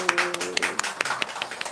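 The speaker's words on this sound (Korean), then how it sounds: "하나님께 영광의 박수" Congregation clapping to glorify God at a Korean church service, a short burst of scattered, fairly close hand claps over a faint lingering tone.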